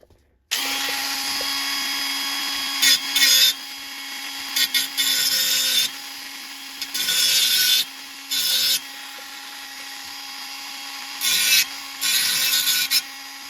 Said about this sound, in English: Okay, I've ground into the crack